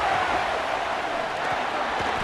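Stadium crowd noise in EA College Football 27: a steady, loud, continuous roar of a large crowd with no distinct cheers or breaks and no voices standing out.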